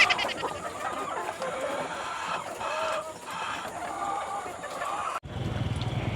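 Native chickens cluck on a Filipino farm alongside ducks and pigs, a busy outdoor mix of clucking under a speaking voice, ending in a sudden cut to a different scene.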